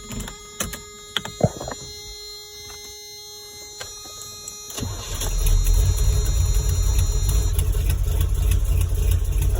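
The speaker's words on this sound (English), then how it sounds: "Let's just start it up real quick and see what kind of action we have here." A Toyota V8 swap engine cranks and catches: a few clicks and brief noises, then a sudden steady loud rumble that settles into a continuous idle, with no talking.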